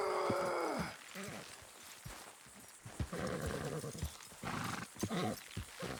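Horses straining to pull something down in Red Dead Redemption 2, with a whinny at the start followed by snorts, hoof thuds and rough effort sounds under game music and ambience.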